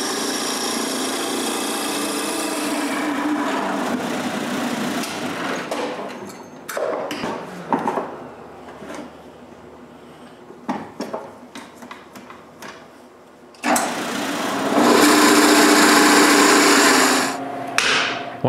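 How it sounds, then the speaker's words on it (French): A power drill bores large holes into the ends of wooden blocks for a wooden tripod, giving a loud sustained whirring grind, then scattered clunks and knocks, then another long close drilling run. "je peux percer des gros trous à chaque extrémité de chacun de mes blocs."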